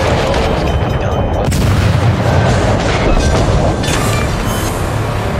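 Warship guns fire in World of Warships, loud rolling booms that stack into a continuous thunderous roar, close and heavy throughout.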